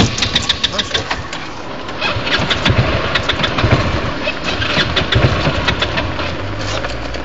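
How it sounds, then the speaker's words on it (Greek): A buggy go-kart engine cranking and trying to start, with rapid mechanical chatter and sputtering bursts that rise into a rough, uneven running drone, loud and close, with no talk over it. "Δεν είναι βενζίνη, συνέχισε, πάρε μπροστά."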